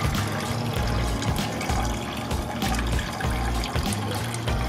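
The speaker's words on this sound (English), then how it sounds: "So now we're just draining the grain, or the water from the grains." Water steadily draining from soaked brewing grains in a home beer-brewing setup, a continuous loud rushing trickle with no break and no talking.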